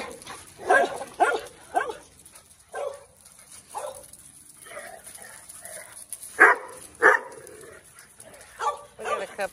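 Several dogs bark in short excited bursts outdoors on a sunny morning, loud yips and woofs arriving in irregular clusters with quiet gaps between.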